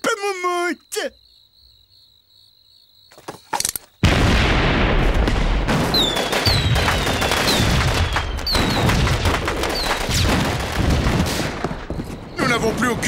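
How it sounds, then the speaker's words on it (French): An ammunition stock blows up in a cartoon: after brief character voices and a near-silent gap, a sudden loud burst of explosions and crackling gunfire-like blasts rolls on continuously with whistling debris effects. "j'ai fait sauter tout le stock de munitions"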